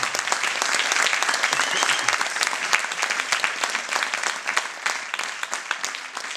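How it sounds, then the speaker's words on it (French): Dense, sustained audience applause at the closing ceremony of the 7th FIFI festival in 2011, a steady wash of many hands clapping throughout with no voices standing out. "Je vous demande vraiment d'applaudir très très fort toutes les personnes qui ont été présentes avec nous cette semaine"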